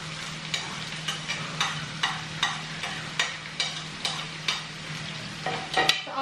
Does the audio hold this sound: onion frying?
yes